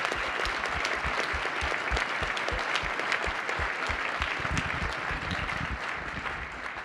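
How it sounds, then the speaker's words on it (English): A conference audience applauds the community staff at a security convention, sustained clapping from many hands, moderately distant and even throughout. "If we can take a second just to give a round of applause for the community staff members."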